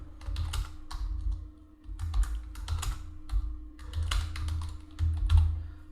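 A business name being typed on a computer keyboard while filing a tax return form, with rapid clustered clicking keystrokes, close and fairly loud, in bursts separated by short pauses, alone without talking.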